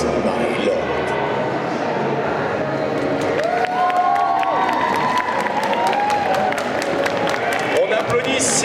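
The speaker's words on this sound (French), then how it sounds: "On applaudit Ciel et Sébastien" Crowd applause and cheering fill the space steadily, a dense wash of clapping from a large audience with a few whoops rising over it, at a cosplay parade at a gaming festival in Nancy.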